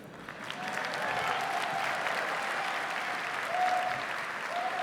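Sustained applause from a luncheon audience after a name is announced at a housing charity's fundraising program, dense and steady throughout with a slight swell toward the end.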